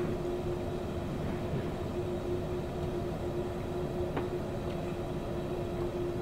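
A Glasgow Subway train in Train Simulator Classic runs with a steady low rumble and a constant tonal whine, faint and even throughout, with a single brief click partway through.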